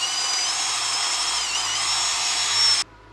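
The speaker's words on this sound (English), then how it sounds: "Drill time. Drill time." A power drill whines loudly and steadily as it bores out a washer for a 1963 Corvair, then cuts off abruptly near the end.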